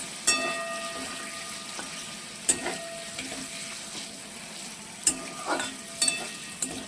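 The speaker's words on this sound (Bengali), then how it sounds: "খুব বেশি ভাজবো না, এই যে হালকা হালকা লাল লাল মতো হয়ে আসছে" Paneer pieces frying lightly in a pan, a soft steady sizzle with a few sharp clinks and scrapes of a utensil scattered through, fairly quiet and without talk.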